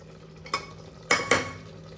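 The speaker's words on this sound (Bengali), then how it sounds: "এবার তাহলে এটা আমি লো ফ্লেমে রেখে খুব ভালো করে এবার কষিয়ে নেব" Chicken sautéed in a pan over a low flame: a quiet background sizzle broken by three sharp metallic clinks of a utensil against the pan, one alone and two close together.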